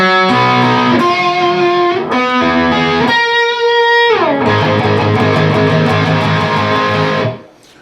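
A distorted electric guitar plays arpeggiated notes in short repeating phrases, sustained and gritty, ending with a slide and quick fade.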